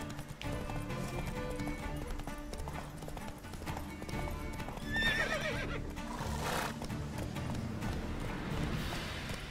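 Roach, the horse in the video game The Witcher 3: Wild Hunt, gallops with steady rhythmic hoofbeats and gives a whinny, loud and continuous over in-game ambience and music, with no talk.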